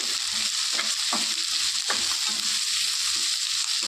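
Capsicum lightly frying in a pan for veg manchurian gives a steady, loud sizzle close by, with a few soft scrapes from stirring and no voices.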